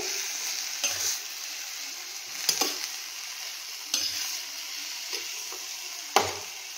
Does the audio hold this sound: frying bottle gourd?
yes